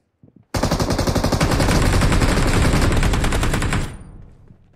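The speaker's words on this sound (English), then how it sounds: "I was hip firing that last guy" Sustained rapid automatic gunfire from hip-firing a gun in the mobile battle royale game PUBG Mobile, a loud dense burst of shots lasting over three seconds before cutting off, with a brief faint click just before.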